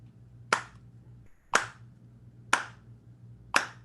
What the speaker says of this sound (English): So yeah, clapping.